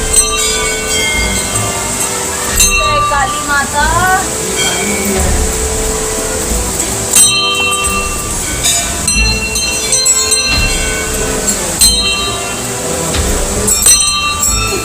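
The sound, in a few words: temple bell ringing by itself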